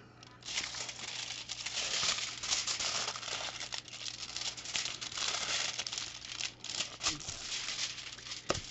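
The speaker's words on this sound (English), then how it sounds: "what we need is a piece of aluminum foil" A sheet of aluminum foil is crinkled and folded at close range, giving a steady, dense rustling with sharper crackles throughout, over a low background hum.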